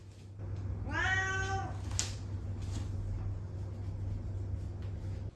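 A pet cat gives a single clear meow at close range in a quiet home, over a steady low hum, with silence following.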